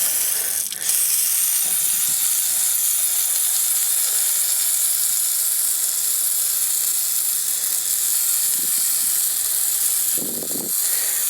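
Rinse water sprays from a nozzle over rust-treated metal in a continuous broad hiss, loud and close, with a few faint knocks and splashes over the steady rush and no voices.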